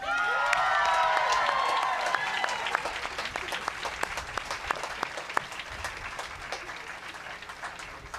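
Audience applause at a school graduation ceremony, dense clapping with some cheers that starts strong and gradually thins out over several seconds, filling a large hall.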